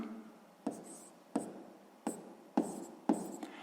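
Pen writing a math fraction on paper, five short distinct scratchy strokes spaced roughly evenly apart, close and quiet with no talking.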